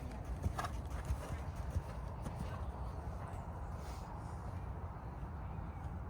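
A horse walking laps in a riding arena, its hooves giving soft, uneven clopping steps over a steady low rumble, fairly faint, with a few sharper hoof strikes early and quiet voices in the background.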